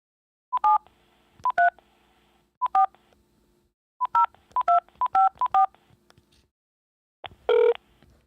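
A run of touch-tone telephone keypad beeps dials a number: short, clean electronic tones in irregular groups, loud and close, then a longer final tone, with near silence between presses.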